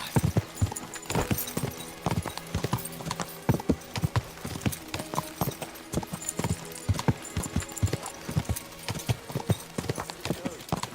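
Horse hooves clip-clop in a quick, regular rhythm in the video game Kingdom Come: Deliverance II, close and distinct over a faint steady background.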